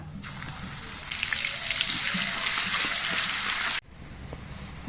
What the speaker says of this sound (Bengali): এবার এই তেলের মধ্যে দিয়ে দিচ্ছি হাফ চামচ কালো জিরে, হাফ চামচ রসুন বাটা,